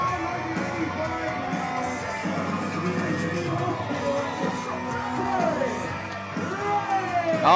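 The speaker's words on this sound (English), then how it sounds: "We've got the crowd yelling." Pro wrestling crowd at an Xcite Wrestling event yelling, whooping and cheering in a dense, continuous roar, swelling louder toward the end with scattered shouts and bangs.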